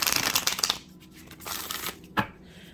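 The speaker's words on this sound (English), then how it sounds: "Let's get one more shuffle" Tarot cards are shuffled close by in quick riffling bursts, a dense papery flutter followed by a second shorter shuffle and a single soft tap.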